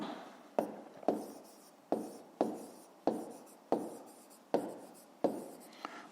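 Pen writing a math answer in a notebook, a series of about nine quick scratchy strokes in an irregular rhythm, close and quiet with no talking.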